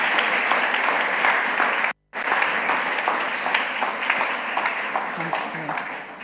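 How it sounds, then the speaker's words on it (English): Audience at an awards ceremony applauds steadily, a dense wash of clapping that briefly cuts out and then continues, fading slightly toward the end. "we should have a round of applause for those."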